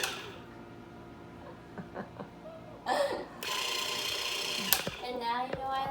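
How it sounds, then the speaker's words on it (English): An electric hand mixer whirs through vegan brownie batter in a home kitchen, a steady motor buzz that starts partway in and runs for over a second before cutting out, with scattered kitchen clatter and brief voices around it. "The mixer."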